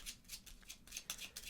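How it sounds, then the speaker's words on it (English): A deck of action cards for a small solo tin card game being shuffled, a soft papery riffle of repeated rapid bursts, close and quiet, with no talking. "we'll shuffle up our action deck"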